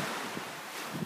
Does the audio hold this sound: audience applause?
no